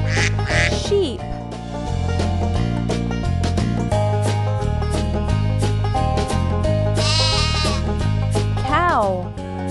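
A cartoon sheep bleats in short wavering calls over bouncy background music, with a quacking sound early on and a rising squeaky call near the end, from a children's farm animal stacking game.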